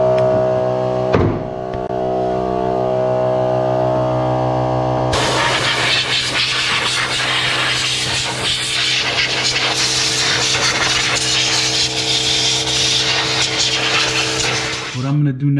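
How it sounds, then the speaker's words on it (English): A vacuum and compressed air cleaning the idle air control valve on a 1996–2000 Honda Civic LX with a D16Y7 engine: a steady motor drone runs throughout, joined midway by a loud continuous rushing hiss of air, close and unbroken. "I'm going to get a vacuum, get some air, and just try to suck up or blow anything out of the"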